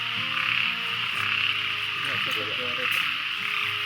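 Dense chorus of frogs croaking in a rice field during heavy rain at night, continuous overlapping calls close by over a steady hiss of rainfall.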